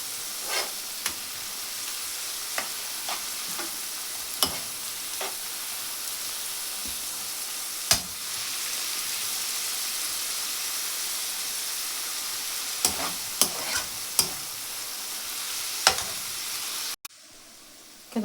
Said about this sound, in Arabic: خدته سوتيه كده في مكعبين زبدة قبل ما احطه في الفريزر